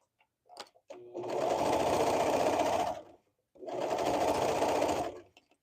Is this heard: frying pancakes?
no